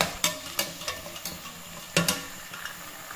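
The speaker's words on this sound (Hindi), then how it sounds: "और इसको डाल देती हूँ घी में" Cut potatoes dropped into hot ghee for aloo dum, giving a soft, steady frying hiss broken by sharp clicks and taps of a utensil against the pan, close and without talk.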